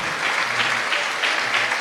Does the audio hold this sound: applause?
yes